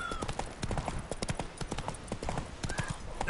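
Roach, a horse in a video game, gallops with quick, driving hoofbeats that are close and rapid throughout, over light game ambience and a faint whinny.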